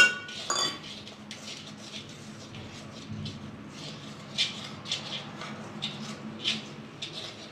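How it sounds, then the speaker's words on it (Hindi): Water is stirred gradually into rice flour in a pot, with soft scraping and light metallic clinks of a spoon against the pot, quiet and irregular. "पानी धीरे धीरे करके मिलाएंगे।"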